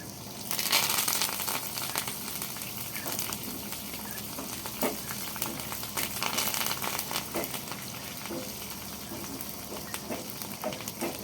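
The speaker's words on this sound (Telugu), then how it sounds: "ఎల్లుల్లిపాయలు ఎండుమిరపకాయలు జీలకర్ర పచ్చిమిరపకాయలు కరివేపాకు తాలింపులు వేసి తాలింపు పెట్టేసుకోవడం" Spices tempering in hot oil with garlic, dried red chillies, cumin, green chillies and curry leaves sizzle and crackle steadily, a dense frying hiss with scattered sharp pops throughout, close and continuous.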